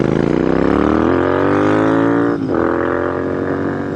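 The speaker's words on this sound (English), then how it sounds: "Oh, that engine just, it sings a sweet song." A Royal Enfield INT650 with a 648cc air- and oil-cooled parallel twin and S&S pipes revs hard close by in a steady, singing drone. There is a brief dip partway through, then the pitch climbs again.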